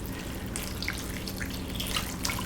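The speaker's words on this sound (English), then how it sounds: "I'm just going to cover everything in the crock with water, plain tap water" Plain tap water pours steadily into a crock over leftover chicken and vegetables as broth is made, a continuous close splashing and gurgling with no voices.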